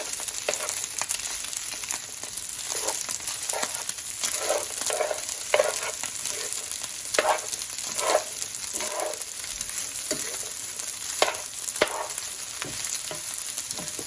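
Green peas stir-fried into fried rice in a pan: a continuous close sizzle broken by repeated scraping and tossing strokes of a utensil, with no talking.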